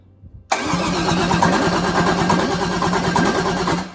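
A starter motor cranks a car engine during wiring work before fuel is hooked up. It kicks in abruptly and turns over with a loud, steady, rhythmic churning that runs without firing, up close and without voices.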